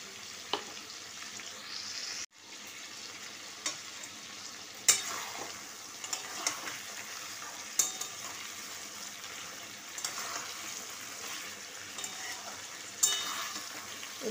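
Garlic fries in a pan with chicken coated in mustard oil, giving a steady sizzle broken by occasional stirring scrapes and clinks, with one short dropout partway through and no talk.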